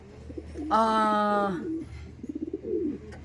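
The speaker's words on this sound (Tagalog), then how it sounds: "Yan yung isa nating ibon pa, na nakalaban sa BBC, Young Bird yan" A racing pigeon, a young bird flown in a race, gives a loud, clear cooing call up close on returning to its home loft, followed by softer rhythmic coos with someone speaking nearby.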